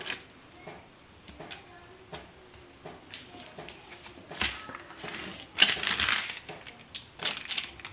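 A knife cutting a homemade brownie into slices on butter paper over a plate, giving soft crunchy crushing strokes and light taps, faint and close, with a louder crumbly burst midway and no speech.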